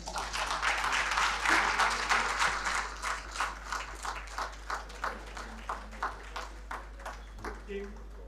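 An audience at a public event after an annual general meeting claps, first as a full burst that thins into slower rhythmic clapping with distinct spaced claps, heard fairly close at moderate volume.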